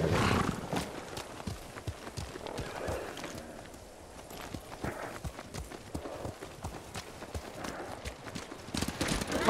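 Several horses gallop in Ghost of Tsushima, their hooves pounding in a rapid, uneven clatter with a neigh or two, while voices speak over the ride.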